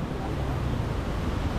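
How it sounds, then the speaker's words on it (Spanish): Steady broadband roar of the Tequendama Falls waterfall, a constant rushing wash of water with wind buffeting the microphone, loud and unbroken throughout. "hermosa cascada. Es bellísimo."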